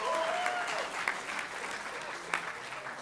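A crowd at a general assembly council meeting claps steadily in a dense wash of applause, with a few sharper claps standing out and voices calling over it.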